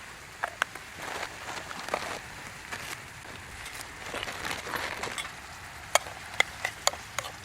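Beef and onions sizzle and fry in clarified butter on a fuel-tab camp stove outdoors, with a steady low crackle, occasional stirring scrapes and a few sharp pops near the end.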